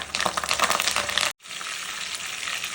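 Curry leaves hitting hot oil in a tempering pan sizzle loudly with crackling spatters, then after a brief break the frying continues as a steady, close hiss.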